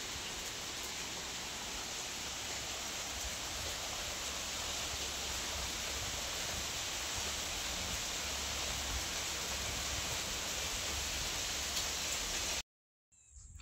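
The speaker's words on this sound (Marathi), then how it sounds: "चांगलाच पाऊस चालू झालाय." Steady heavy rain pours over an open cucumber field, a dense constant hiss that fills the scene without a break before cutting off abruptly near the end.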